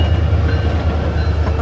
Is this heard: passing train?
yes